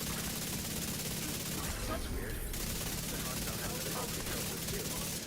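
Sustained automatic gunfire in The Division 2, dense rattling bursts running steadily through the whole stretch at a moderate, slightly distant level.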